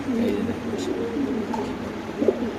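Danish pigeons at a pigeon seller's stall give soft, low cooing calls, a couple of rolling coos rising over a steady murmur of background noise and voices.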